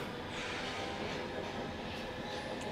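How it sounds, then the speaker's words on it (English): A London Underground tube train passes outside an open window, a faint, steady rushing rumble of rails and carriages with no talk. "Is that the tube?"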